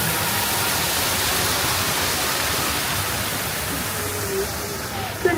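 Waterfall beside a Disneyland Storybook Land canal boat ride, a constant broadband rush of falling water that stays loud and even, with a faint brief voice near the end.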